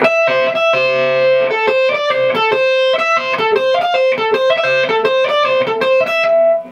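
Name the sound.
distorted electric guitar riff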